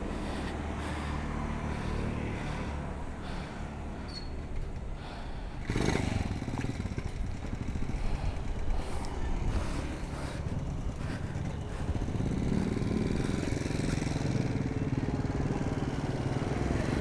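Motorcycle engines, a Kawasaki ZX4RR or Aprilia 457, heard on a morning ride, running steadily with a rough broadband drone that swells louder around the middle and again toward the end, with no talk.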